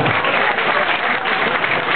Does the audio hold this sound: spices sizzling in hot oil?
no